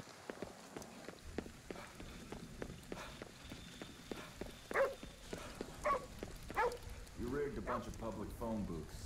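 A dog in the video game Ghostware Tokyo barks a few times, short sharp yelps over soft rain and footsteps, moderately close, with a voice speaking at points.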